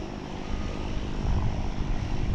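A Martin Air airliner at DFW Airport gives off a steady, fairly loud engine roar that builds slightly toward the end, with no talking.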